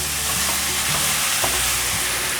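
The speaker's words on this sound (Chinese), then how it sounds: "快速的翻炒。" Sliced king oyster and white beech mushrooms stir-fried quickly with carrots in a wok, giving a loud, steady sizzle with scraping stirs throughout, close by.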